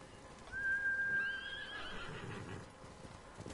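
A horse in the Ghost of Tsushima video game gives a loud, clear whinny near the start, followed by steady clip-clop of hooves trotting through the rest, with no talk.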